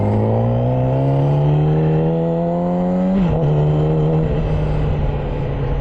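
A Yamaha R6 sport motorcycle engine, still slightly cold on the first ride of the season, runs loud and close with a steady buzzing tone that rises, dips briefly, then settles back to a smooth idle.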